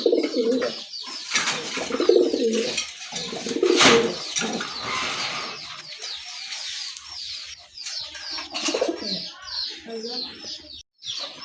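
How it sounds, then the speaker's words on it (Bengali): Bangladeshi local running pigeons coo repeatedly close by, with soft chirps and occasional wing flutters, while a person talks over them intermittently. "এটাও কিন্তু দেশি কবুতর, রানিং কবুতর"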